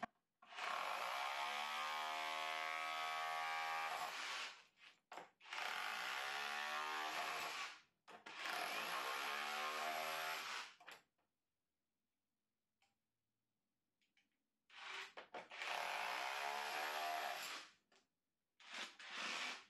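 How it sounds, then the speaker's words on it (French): An Einhell Herocco rotary hammer chiselling, heard up close as loud, sustained hammering bursts of several seconds each, broken by brief pauses and a longer stretch of near silence before it starts again. "il va continuer de buriner"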